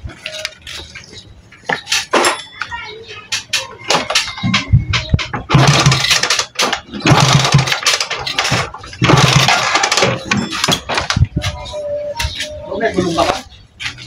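A motorcycle kick-starter is stomped several times while its CDI ignition is tested with a test light, giving rough broadband thumps and mechanical clatter in bursts, with faint voices in the background.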